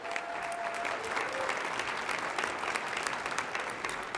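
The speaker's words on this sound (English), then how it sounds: "Please give her another round of applause." Sustained applause from an audience at the City of Tampa Black History Celebration, following a sung performance of Lift Every Voice and Sing, a steady dense wash of clapping that stays loud throughout.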